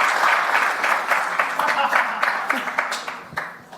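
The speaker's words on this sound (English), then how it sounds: "Round of applause there." A live show audience in London claps in applause, dense and steady at first, then thinning out toward the end, heard at moderate distance.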